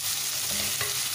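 Chopped ripe tomatoes stirred in a hot pan for a fish curry, a brief close scrape of the spoon over a soft steady sizzle.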